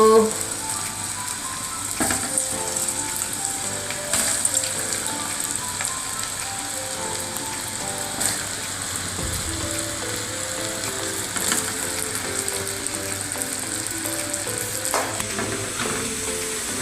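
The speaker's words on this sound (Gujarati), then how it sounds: "તો આપણે હા તળવા માટે રોલ મૂકી દીધા છે" Potato patties frying in hot oil make a steady, dense sizzle that runs throughout, with scattered clicks and scrapes from the pan and utensils; no talking.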